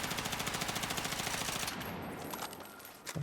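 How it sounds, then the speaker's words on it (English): Rapid automatic gunfire in a first-person shooter video game while aiming down sights, a loud, evenly spaced stream of shots that stops partway through, leaving a fading tail and a final faint shot. "you're going to go and just aim down sights and then just shoot"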